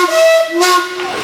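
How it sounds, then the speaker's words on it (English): A steam whistle sounds on a 1919 65 horsepower steam engine, a loud, steady chime-like tone held over hissing steam, briefly dipping and then resuming. "He's got some special whistles."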